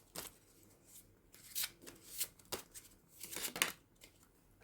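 Tarot cards being shuffled for a Halloween reading, a run of soft papery riffles and slides in uneven bursts, fairly quiet and close, with no talking.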